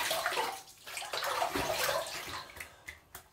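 Water runs and splashes continuously while a face is rinsed at a sink, with a fluctuating gush and a few sharper splashes near the end, close and alone.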